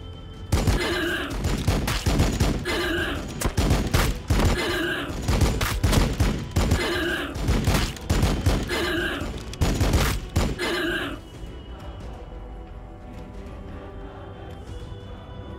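Rapid bursts of heavy gunfire and booming volleys from the Warhammer 40k Battlesector video game, firing at Homer Guns. The loud, dense fusillade repeats steadily for about eleven seconds, then cuts off to a quieter low hum.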